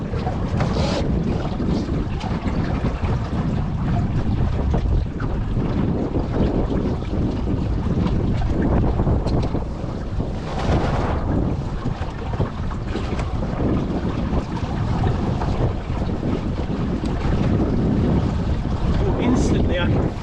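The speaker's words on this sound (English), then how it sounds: "what I'm now going to do is get the jib out, see if we can do a bit of sailing on the jib" Strong wind roars across the microphone with water rushing and sloshing past a heeling sailboat sailing under jib, a continuous loud blustery wash.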